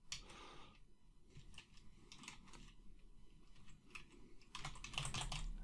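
Code is typed on a computer keyboard in quick bursts of close, crisp key clicks with brief pauses, ending in a denser flurry of keystrokes, with no speech.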